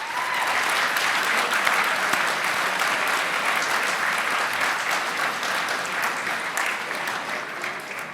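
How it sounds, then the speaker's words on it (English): An audience at the Headway Awards 2022 ceremony applauds its sponsors with loud, sustained clapping from many people that stays dense for several seconds before easing slightly at the end. "A round of applause, please,"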